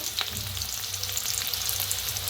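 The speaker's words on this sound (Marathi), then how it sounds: "तर तेल चांगलं गरम झालेलं आहे त्याच्यात टाकूया कांदा" Chopped onion hits hot oil in a pan for a Kolhapuri-style vegetable dish and sets off a loud, steady, close sizzle that holds without a break.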